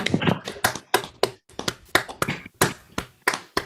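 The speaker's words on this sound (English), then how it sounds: "let's make a round of applause that raises the roof" A small audience gives a round of applause, heard as separate crisp claps in an irregular, fairly close pattern rather than a dense roar, carrying on steadily for several seconds with no talking.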